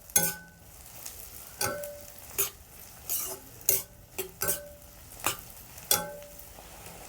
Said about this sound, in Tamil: ஒரு நிமிஷம் வதக்கிட்டு தக்காளி சேர்த்துக்கலாம்.